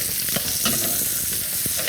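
Dense, continuous sizzling and crackling of a buttered herb crust frying in a pan, with small pops throughout, close and fairly loud.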